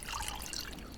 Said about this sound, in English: I fill up the water